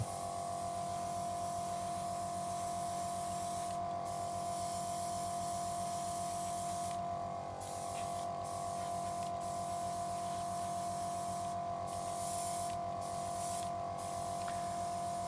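An airbrush sprays a coat of paint onto a plastic Zaku II model kit, giving a steady close hiss with a few brief louder air bursts and no talking.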